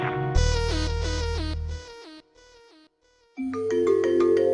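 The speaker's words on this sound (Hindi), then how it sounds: "हमारे बाबा का फोन।" A telephone plays a melodic electronic ringtone, loud and close, in a drawn-out phrase that drops to quiet for a moment before the melody starts again.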